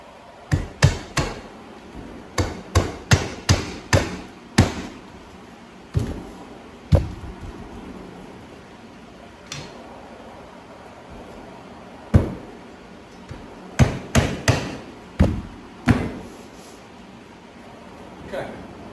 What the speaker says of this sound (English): I'm gonna set that edge on the lip and use this hammer so I don't break it